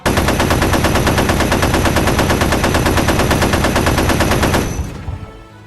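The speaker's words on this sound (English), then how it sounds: "it sprayed a hail of bullets at her" Continuous rapid automatic machine-gun fire, loud and sustained for several seconds, then cutting off abruptly with a brief fading tail.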